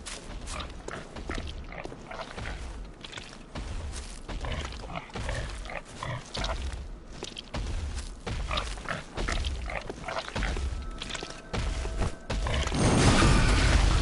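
Pig in the Bloodborne video game grunting and snorting in rough, uneven bursts, loud and close, with a harsher rumbling noise swelling at the end.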